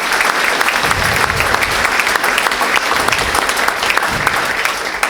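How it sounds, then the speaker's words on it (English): Steady, dense applause from an audience at a school board meeting, honoring students, sustained and fairly loud for five seconds with no break. "join me in another round of applause for them"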